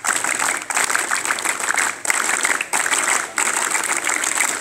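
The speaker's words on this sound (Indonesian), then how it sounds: "2 kali tepuk pramuka." Group performing the scout clap (tepuk pramuka) twice, bursts of many hands clapping in rapid rhythmic patterns separated by short gaps, loud and close.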